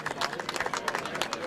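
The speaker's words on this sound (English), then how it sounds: "Let's give you guys a round of applause" Steady, close applause from an audience at the opening ceremonies of a flat track motorcycle race, dense rapid clapping with no speech.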